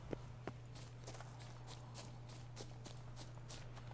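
Light horse hoof clip-clops from The Witcher 3: Blood and Wine repeat in a steady walking rhythm over a constant low electrical hum, fairly quiet and without any talking.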